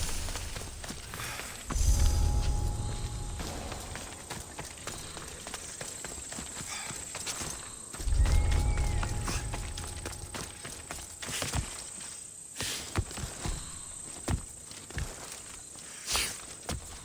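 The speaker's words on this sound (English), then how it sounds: "There's the stables." Horses at the stables in Assassin's Creed Odyssey, with steady hoof clip-clops and footsteps moving close by, two heavier low thumps partway through, and scattered sharper hoof hits toward the end.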